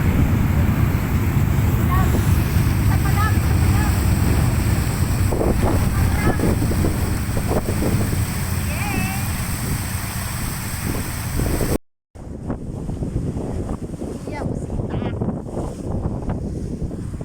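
Heavy wind buffets the microphone in a constant roar, with a brief dropout partway through before the gusting resumes.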